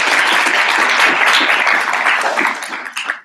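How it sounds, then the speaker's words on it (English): Sustained audience applause at an open house event, dense and loud clapping from a crowd that holds steady for about three seconds before tapering off. "So please give yourselves a hand."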